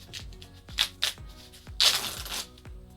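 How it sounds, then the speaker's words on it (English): Pieces of corrugated Amazon box cardboard from a DIY cat ramp snapped sideways and peeled apart, giving several crisp tearing and crackling bursts with one longer ripping peel near the middle, close and alone. "if you snap them sideways, they just start to peel apart"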